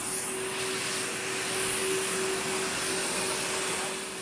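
A powerful vacuum cleaner that draws 20 amps runs during a suction test, giving a steady, loud drone topped by a constant high whine, heard alone without talk.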